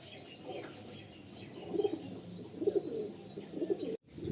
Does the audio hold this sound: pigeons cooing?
yes